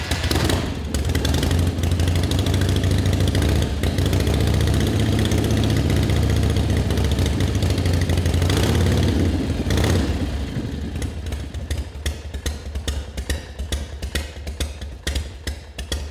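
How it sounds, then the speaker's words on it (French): A rigid chopper motorcycle, kick-started with no starter motor, idles with a loud, deep, lumpy engine rumble that holds steady, then thins into separate uneven firing pulses toward the end. "tu démarres au kick, j'ai pas de démarreur"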